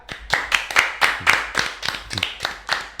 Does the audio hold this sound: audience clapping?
yes